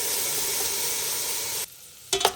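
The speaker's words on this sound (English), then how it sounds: "in just a little bit of oil, I will add the ginger and garlic 2 tablespoons" Ginger and garlic sizzle steadily in a little hot oil, a close, even frying hiss that dips suddenly near the end before a short stirring scrape.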